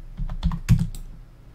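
Several clicky computer keystrokes in a quick irregular cluster, close and moderately loud, as values are typed in during a Vectric woodworking software tutorial for a decorative wall-mounted plate rack.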